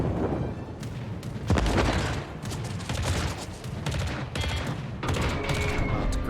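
Bombs and shells bursting on a ship in World of Warships, North Carolina and Chkalov in the battle, heard as repeated deep booms and crackling blasts in waves over a steady low rumble.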